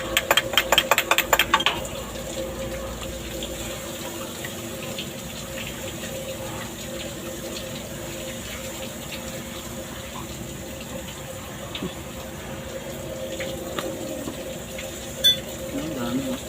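Water trickles and pours steadily at moderate volume from a removed double-cylinder compressor head, with a mechanical hum underneath and a few metallic knocks at the start.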